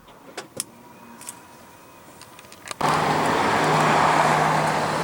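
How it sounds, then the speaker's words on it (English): The power tailgate on an Audi Q7 pops with a sharp click, then releases into a steady, close whirring motor hum that carries on evenly for the rest of the moment. "Let's go ahead and pop the tailgate."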